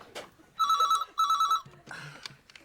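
An old-style telephone bell ringing in two loud, clear trills indoors at night, followed by quieter rustling and faint voice sounds.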